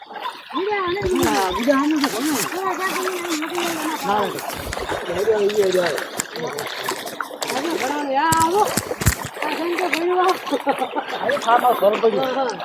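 People wade through rain-flooded farm fields, water splashing and sloshing around their legs almost continuously, close by, while several voices talk over the watery churn.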